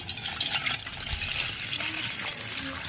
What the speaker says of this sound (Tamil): இப்போ வெங்காய குழம்பு வைக்கிறக்காண்டி புளியை ஊற போட்டுருவோம்.